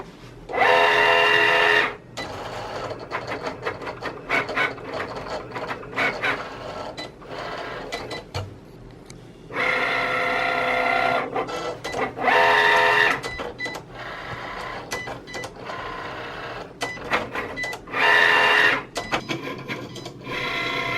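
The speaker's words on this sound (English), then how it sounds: "when the machine makes that noise and then zooms up, that means that it's writing and cutting in fast mode" A Cricut Explore Air cutting machine whirs and rattles in several loud bursts while writing and cutting in fast mode, each a couple of seconds long, separated by quieter mechanical humming and clicking, with no talking.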